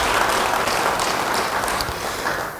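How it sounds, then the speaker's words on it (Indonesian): Church congregation clapping for Jesus Christ during a sermon, a dense, loud wash of applause that holds steady and eases off slightly toward the end, with no voices over it. "Beri tepuk tangan bagi dia."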